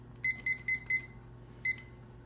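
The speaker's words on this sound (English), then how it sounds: "I'm going to set a timer for 5 minutes." A kitchen timer being set for bread machine soft pretzels gives four quick electronic beeps in a steady rhythm, then one more after a short pause, each clear and fairly close over a low steady appliance hum.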